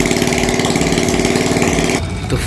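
A TVS XL100 moped engine with its head cover off runs steadily at idle, a loud, even mechanical chatter close by that cuts down abruptly near the end.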